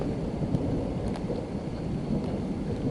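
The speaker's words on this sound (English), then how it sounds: "I can just sit in here and listen to the sound of the falling rain" Steady rain falls with a low, rolling rumble of thunder underneath, a continuous wash of sound without any voices.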